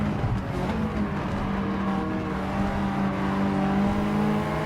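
A Mitsubishi Lancer Evo III GSR races in Gran Turismo 7, its engine droning loud and close with a steady, high-revving hum that holds throughout with little change.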